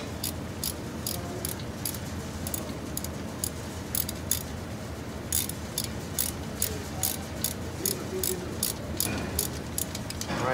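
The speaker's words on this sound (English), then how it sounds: "Use my ratchet to tighten it up." Hand ratchet tightening a bolt during a brake inspection on a Toyota Solara, a continuous run of quick metallic clicks close to the microphone with irregular pauses between strokes.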